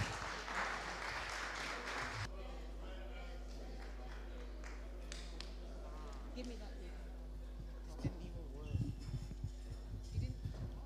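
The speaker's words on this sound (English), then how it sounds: "Can we give them another round of applause?" An audience applauds the NICOT choir at an independence celebration event, with a dense burst of clapping at the start that fades into a quieter room murmur with scattered sounds.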